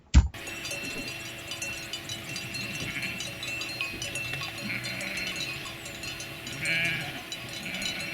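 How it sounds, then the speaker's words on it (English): Sheep bleat faintly across a wide outdoor space in a Transylvanian village in Romania, with scattered clinking bells and a low background murmur. "It's a lot of sheep."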